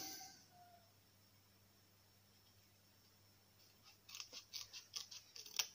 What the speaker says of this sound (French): Donc un petit ciseau.